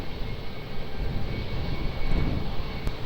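Airliner on approach to runway 20 at Lisbon Airport, a steady, fairly faint engine rumble with broadband roar holding evenly throughout, with no voices.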